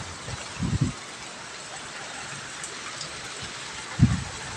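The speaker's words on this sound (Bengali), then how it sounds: "এমন একটা সময় খুব বৃষ্টি হচ্ছে" Heavy rain pours down outside a balcony in a steady, dense patter, with two short dull thumps from nearby drops or drips rising above the hiss.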